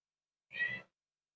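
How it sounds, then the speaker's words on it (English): A single short, faint cat whine, a brief nasal cry lasting under half a second amid silence. "I'm sorry if you hear my kitty cat in the background."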